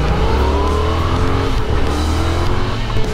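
A Yamaha XSR 700 motorcycle pulls hard with its quick shifter, the engine note climbing in several quick rising sweeps as gears snap through, loud and close with steady wind rush over it.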